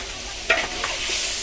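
Food frying in a pan with a steady sizzle, plus a couple of short stirring scrapes midway, close and moderately loud, no talking.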